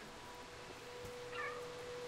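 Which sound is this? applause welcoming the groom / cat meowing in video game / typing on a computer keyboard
cat meowing in video game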